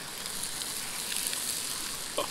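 Rainbow trout frying outdoors on a cold day, giving a steady, close sizzle with faint crackles throughout and a small pop near the end, with no talking.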